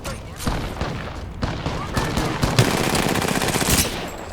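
Rapid bursts of automatic gunfire from the video game Apex Legends, dense and loud with repeated shots and booming impacts, while a player talks excitedly over the action.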